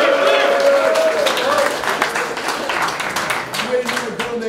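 A lively live crowd applauds and cheers at a Dutch rap battle audition try-out, with dense, continuous clapping and shouting that swells loudly and stays busy throughout.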